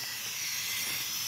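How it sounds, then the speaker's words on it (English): Bissell PowerFresh steam cleaner pushing steam through microfiber brushes on a wood floor, a steady, bright, close hiss that fills the short stretch without a break. "the steam is passing through those microfiber brushes."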